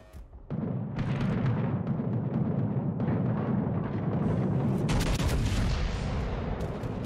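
Heavy naval gunfire booms continuously from warships in World of Warships Legends, a dense, loud roar of overlapping cannon blasts sustained without pause after a brief quiet opening.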